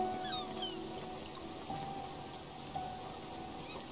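Rain in the video game Spiritfarer falls as a soft, continuous patter and hiss, faint and even throughout, with a few light drips and tones on top.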